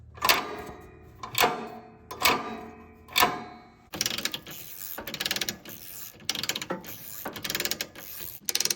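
A mechanical winch on an off-road mower clicks and ratchets in a series of separate bursts, then its cable spools out in rapid, continuous free-rolling clatter.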